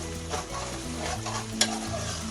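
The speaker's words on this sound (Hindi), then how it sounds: "अच्छे तरीके से भूनेंगे।" Softened onions for chicken karahi frying on low heat while being stirred, a quiet continuous sizzle with a single sharp clink of the spoon partway through, no voices.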